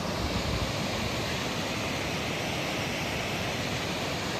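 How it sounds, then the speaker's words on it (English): Rjukandi Waterfall in Iceland gives a steady, dense roar of falling water, loud and unbroken from start to finish with no voices over it. "our first attraction is Rjukandi Waterfall"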